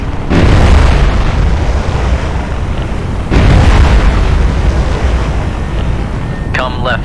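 A VLS missile launch in the naval game Cold Waters: a loud roaring rush that bursts in and sustains, followed by a second similar roar a few seconds later, with a brief radio-like tone near the end.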